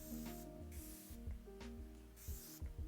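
A fine mist of makeup setting spray hisses out in several short bursts, close and fairly quiet, with soft rubbing sounds between the sprays.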